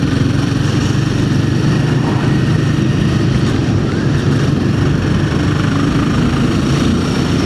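A Royal Enfield Himalayan 450 motorcycle idles at low revs, a loud, steady, close-up engine drone with an even low throb that carries on unbroken, with no voices.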